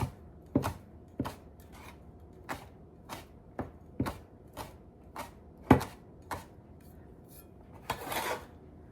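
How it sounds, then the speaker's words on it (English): A knife rough-chops preserved radish on a cutting board, about a dozen sharp knocks at an uneven, unhurried pace, close and alone. "We're just gonna rough cut this preserved radish."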